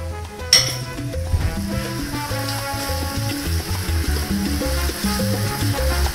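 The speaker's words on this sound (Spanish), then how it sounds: "Seguimos friendo." Cuban sofrito with chopped garlic and ground oregano frying in a pan, giving a continuous bright sizzle with a sharp clatter near the start and faint stirring scrapes beneath.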